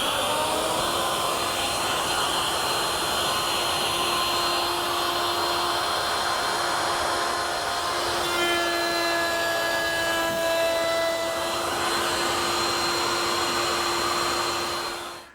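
A router table fitted with a 5/32 router bit and a featherboard cuts wood stock run flat on its face, producing a steady, continuous high-pitched whine that holds loud and even throughout before cutting off at the end.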